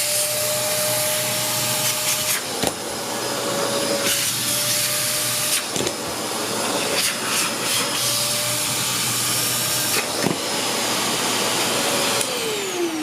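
A Hoover Commercial PortaPower vacuum cleaner runs continuously up close, a loud steady motor whine and airflow roar with brief dips and clattering bumps as the nozzle moves.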